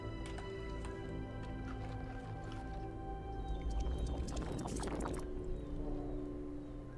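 A wet, squelchy squish sounds from a regurgitated worm in the video game The Eternal Cylinder, a brief gurgling burst rising out of steady, droning game ambience.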